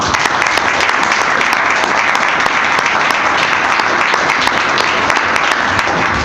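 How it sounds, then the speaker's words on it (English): An audience at a public meeting on drinking water protection applauds, steady, dense clapping from many hands that fills the space evenly throughout. "Let's give these folks a round of applause"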